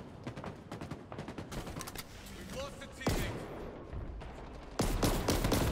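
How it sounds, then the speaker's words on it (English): Gunfire from a video game firefight crackles in rapid, repeated bursts, with louder shots landing near the middle and end, mixed with other game noises and a player talking over it. "I'm getting sniped."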